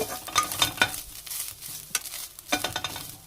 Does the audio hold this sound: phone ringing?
no